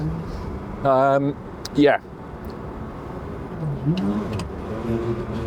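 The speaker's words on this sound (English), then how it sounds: "Always nice to see another piece of exotic Italian machinery pounding the tarmac from our workshop" A Lamborghini Espada, a classic Italian exotic car, is heard on a road test: a mid-pitched engine note rises and falls, partly covered by two short loud voice bursts and ongoing voices.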